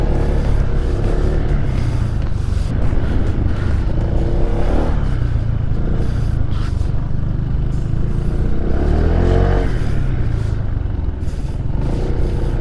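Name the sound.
Honda Vario 160 motor scooter engine during test ride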